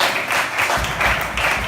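A church congregation applauding, a sustained wash of many hands clapping together in waves, loud and close, with no voice over it.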